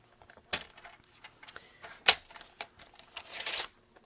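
Card stock cut on a paper trimmer for a flap fold card, scattered sharp clicks and taps, a distinct snap near the middle, then a longer rasping slide, close and fairly quiet.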